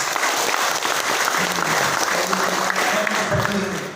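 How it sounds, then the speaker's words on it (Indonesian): An audience at a regional conference claps for the organizing committee, the applause steady and moderately loud throughout with crowd murmur beneath. "saya minta kita semua tepuk tangan dulu untuk panitia"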